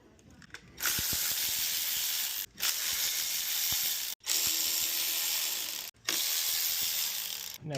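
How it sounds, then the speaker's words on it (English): Ratchet cracking loose the supercharger bolts on an Audi 3.0T engine, a close, loud run of rapid clicking bursts broken by three short pauses. "remove probably the supercharger bolts, so I like to crack them loose with the ratchet first"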